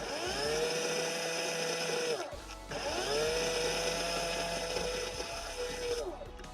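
The small electric motor of a kids' ATV scooter whirs steadily after a corroded contact is bypassed, running about two seconds, cutting out briefly, then spinning up again with a high steady whine.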